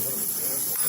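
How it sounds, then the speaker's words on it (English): Onions dropped into hot lemon-butter olive oil give a steady, close hiss of sizzling throughout, even and moderately loud with no talk over it. "I'm going to go ahead and dump these onions in because that oil is starting"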